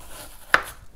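A single crisp knife chop through onion on a cutting board, cutting it into big pieces, faint and close against a quiet room.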